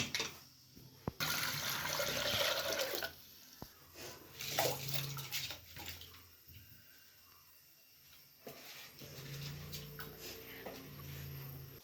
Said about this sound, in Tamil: கேரட் பொரியலுக்கு குக்கரில் கேரட்டை அலசி கழுவிட்டு வேக வச்சுக்கிறேன்